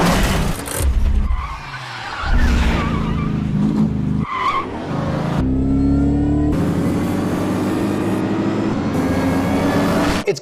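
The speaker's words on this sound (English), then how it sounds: "What you've got here is a 5-liter Mustang GT in a race with a Chrysler 300" A 5-liter Mustang GT races a Chrysler 300 in a Fast & Furious chase scene, engines roaring loudly and tires squealing through skids, with continuous revving and a few sharp cuts.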